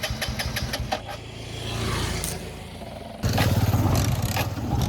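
A motorcycle that has stalled before is kick-started: rhythmic chugging tries at first, then the engine catches and settles into a loud, steady idle close by.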